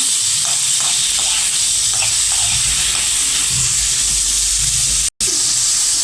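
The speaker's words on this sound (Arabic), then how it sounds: "نشوحها شوية كده" Chicken gizzards sauté in hot ghee in a pan, a steady loud sizzle and hiss with occasional stirring scrapes, continuous apart from a brief cutout near the end.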